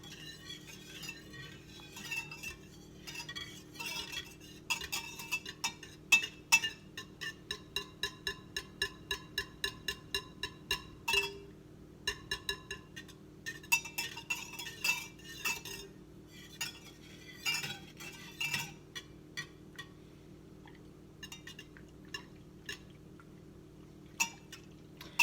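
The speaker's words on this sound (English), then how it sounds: "you want to be stirring constantly so that it doesn't stick to the bottom of the pan" Bearnaise sauce being stirred in a pan for a steak meal, with a spoon clinking repeatedly against the pan in steady rhythmic taps that come in bursts over a faint background hum, close and clear with no voices.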